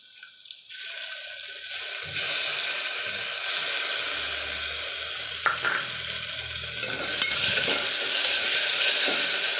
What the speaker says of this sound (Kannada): ಈರುಳ್ಳಿ ಚೆನ್ನಾಗಿ ಫ್ರೈ ಆದಮೇಲೆ ಶುಂಠಿ ಬೆಳ್ಳುಳ್ಳಿ ಪೇಸ್ಟು